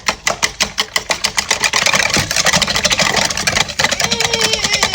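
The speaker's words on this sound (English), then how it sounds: "Maybe if I whisk it really hard, it'll break down the pieces of banana that my fork didn't." Rapid, vigorous whisking of banana into gluten-free muffin batter in a bowl, a loud, dense stream of fast scraping strokes, regular at first and then a continuous rhythmic churn, close and without talk.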